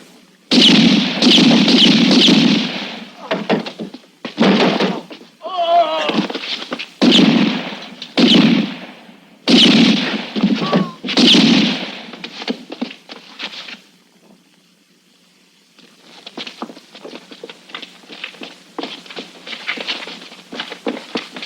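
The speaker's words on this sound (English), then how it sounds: "Good shooting, Johnny!" Gunshots in a 1960s western film, sharp cracks fired in quick bursts with short pauses between volleys, loud and close, then fainter scattered pops near the end.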